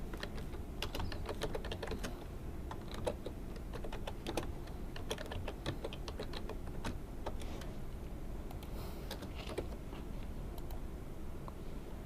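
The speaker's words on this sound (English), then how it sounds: "So I'll type in Roger." Steady, rapid clicking of a computer keyboard as names are typed into a Microsoft Word 2007 document, close and continuous with small irregular bursts throughout.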